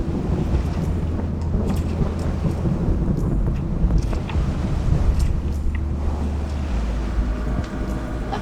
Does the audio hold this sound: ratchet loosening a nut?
no